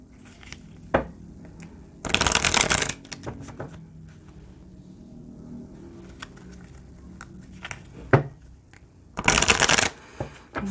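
Tarot cards being shuffled for a reading, with two loud bursts of riffling, each lasting under a second, separated by quieter card handling and soft taps close by, no talking.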